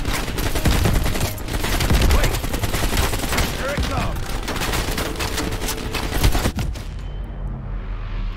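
Dense, loud gunfire from the Call of Duty: Black Ops Cold War campaign, including an AK rifle, rattles in continuous bursts and volleys. A shouting player can be heard over the shooting.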